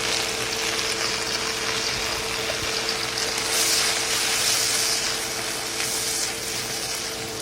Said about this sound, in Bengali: এটাকে শাকটা এখন ভাজা ভাজা হবে